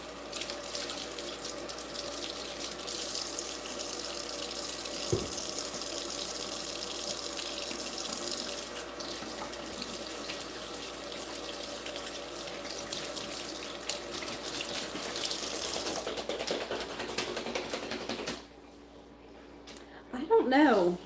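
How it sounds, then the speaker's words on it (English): A kitchen tap runs steadily while hands are washed, a close, continuous rush of water that cuts off near the end, followed by brief clatter and a voice. "And wash my hands."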